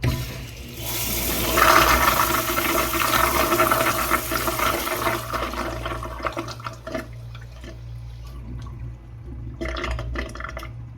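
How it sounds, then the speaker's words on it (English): A first-generation American Standard Allbrook urinal from the 1960s–1990s flushes with a loud rushing surge of water that tapers into trickling and refilling, heard close up with a low hum underneath. "Let's take a look at a flush, shall we?"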